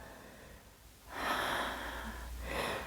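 Slow, audible exhale during a hand towel pilates workout, a soft breath out after a quiet pause, then the start of another breath.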